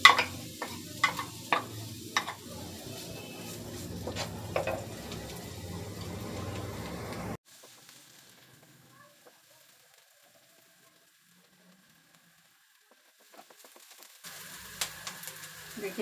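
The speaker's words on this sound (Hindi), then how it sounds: "अब इसमें प्याज फ्राई कर लेते हैं।" Onions fry in a tablespoon of hot oil with a soft sizzle and scattered clicks of stirring for several seconds. Then the sound drops to near silence before faint sizzling returns.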